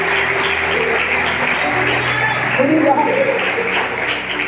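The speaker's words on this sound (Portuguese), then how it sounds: "Você deveria aplaudir ao Senhor" Congregation at a Portuguese-language worship service applauding the Lord, steady crowd clapping throughout with a voice and sustained tones underneath.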